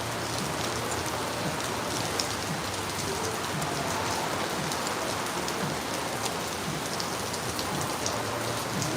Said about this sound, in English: And then the rain is so loud, man.